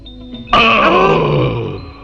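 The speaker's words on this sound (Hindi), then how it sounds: "इडियट, फिर डकार ली तुमने।" A man lets out a sudden, loud, drawn-out belch in a Bollywood film scene. It rumbles for over a second before fading, with no talking during it.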